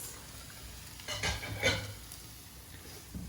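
Shallots tipped into a hot pan for Boscaiola (woodsman's pasta) give a short, bright burst of sizzling that swells twice, then settles to a quieter background crackle, with no talking.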